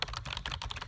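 Rapid, steady typing on a Dell keyboard, a dense run of soft, somewhat muffled clicks heard up close with no talking.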